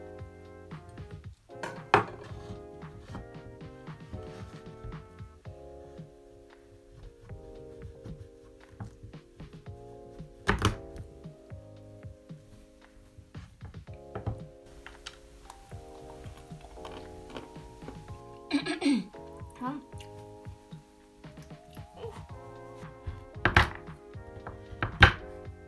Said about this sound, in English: After struggling for a while, I managed to chop the chocolate in small pieces.